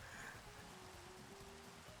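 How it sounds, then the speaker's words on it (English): Steady rain falls in a Minecraft world, a faint, even hiss of drops with no talking. "Why is the rain so loud?"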